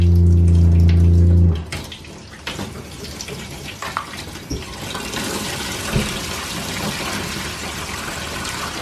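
Warm water runs from a tap into a basin for washing fabric, a steady rushing splash that starts after a brief low hum and continues close and even to the end.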